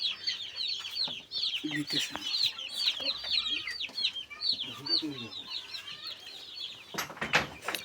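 Thirty-two broiler chicks in a hot poultry shed keep up a busy chorus of close, high-pitched cheeping and clucking, with a voice talking briefly and some rustling underneath.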